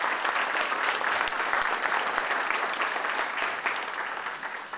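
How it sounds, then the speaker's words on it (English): An audience at a Veterans Day ceremony claps in a steady, dense round of applause, loud and continuous throughout with no voices over it. "I'd like you to give a round of applause to Robert Cunningham of the Hamilton County"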